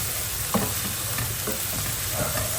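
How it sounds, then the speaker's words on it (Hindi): Masala with tomatoes fries in a pan with a steady, dense sizzle, close and fairly loud, punctuated by occasional soft stirring scrapes and no talking. "मसाले को अच्छी तरीके से भूनते हैं जब तक ये टमाटर अच्छे से गल नहीं जाते"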